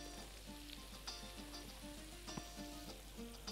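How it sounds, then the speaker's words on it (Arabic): Butter melting in a well-heated frying pan gives a faint, steady sizzle and crackle with occasional small pops, heard on its own without talk. "الزبده هتسيح على طول لان انا اصلا مسخنه الطاسه كويس قوي"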